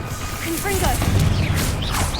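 A Confringo blast spell in Hogwarts Legacy goes off in a dense, noisy burst of crackling, whooshing game effects with sweeping high swishes, all overlapping in a busy combat mix.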